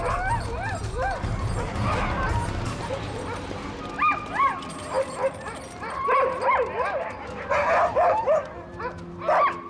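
A pack of dogs confronts a polar bear, giving repeated yelps, whimpers and bursts of barking that come in rapid clusters, some close and loud, with a low rumbling background underneath.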